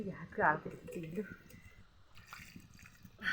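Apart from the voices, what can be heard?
washing hands with water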